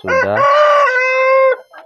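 A native village chicken in a coop gives one loud, close call, starting with short clucks and rising into a drawn-out crowing squawk, alone with no talk.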